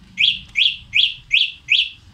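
An NWOW electric bike's horn chirps five times in a steady, evenly spaced series, each a bright rising-falling tweet-like beep, loud and close with no talking.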